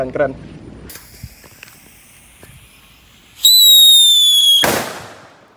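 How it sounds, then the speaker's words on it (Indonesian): A Whistling Thunder firework is lit, with faint fizzing and small clicks before a loud, piercing whistle rises for about a second and ends in a sharp crack; a voice speaks briefly at the start. "Whistling Thunder, kita nyalakan"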